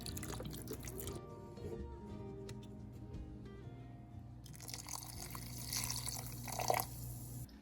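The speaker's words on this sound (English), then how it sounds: "So I'm going to put some more broth in" Broth pours into a bear stew pot, a soft liquid splashing and trickling that runs steadily for several seconds at moderate level over a constant low background hum.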